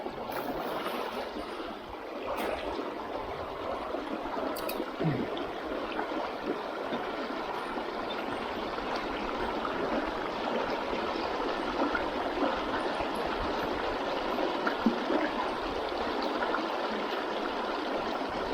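River current flows and rushes steadily in a constant, soft wash, heard from nearby, with occasional small splashes.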